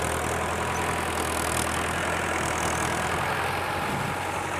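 A tractor engine runs steadily at idle, a constant low mechanical drone with a faint knocking throb, close by and with no voices over it.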